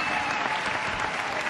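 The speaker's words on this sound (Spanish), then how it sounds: "Aplausos también para ellos." Audience at a tango competition final in Buenos Aires applauds in a dense, even burst of clapping, fairly distant and steady throughout.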